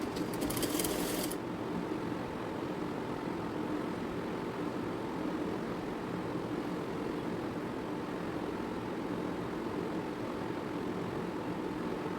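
A sewing machine runs steadily while stitching pleats on a frock, a continuous low mechanical whir at moderate volume after a brief bright rattle at the start, with no voices.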